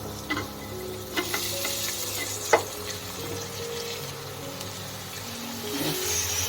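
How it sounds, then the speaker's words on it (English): Steady sizzling of mixed vegetables frying in a pan, with occasional clinks and scrapes of stirring; no talking. "After frying for a while, let's add all the other ingredients."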